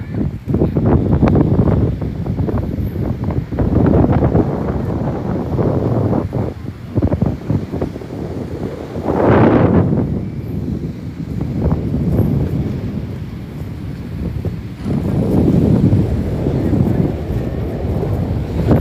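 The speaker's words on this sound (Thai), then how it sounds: "ลมแรงมาก เสียงเราสู้ลมไม่ไหว" Strong wind blasts across the microphone at the Pattaya International Kite Festival, a loud continuous roar with surging gusts and a brief sharper whoosh midway.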